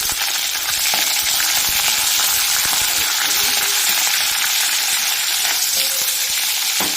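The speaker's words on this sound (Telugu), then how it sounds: "ఆనియన్స్ కొంచెం వేగనిద్దాం." Onions for a chicken curry sizzle steadily in a hot pan, a dense continuous frying hiss with occasional stirring scrapes, close and fairly loud with no talking.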